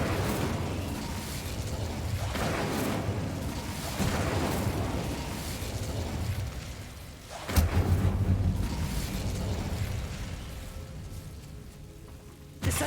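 Incendio fire spell in the video game Hogwarts Legacy, a continuous roaring, crackling burst of flame with a sharper whoosh midway, loud and close throughout.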